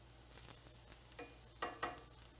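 Onions browning in a hot pan crackle with a steady low sizzle while a spoon stirs them, giving a few louder scraping sweeps near the end.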